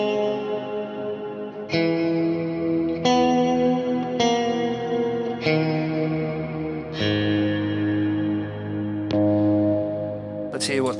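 Electric guitar played through a GFI System Skylar reverb pedal set to a descending-octave shimmer, with a series of sustained strummed chords, each struck about every 1.2–1.5 seconds and ringing into a lush, dense wash of reverb tail.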